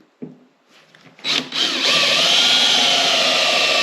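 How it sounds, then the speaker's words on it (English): A power drill bores out steel rivets while Pind EMX running boards are being installed. A few brief taps come first, then the drill spins up into a loud, steady grinding whine that holds to the end. "go ahead and drill these 4 rivets out"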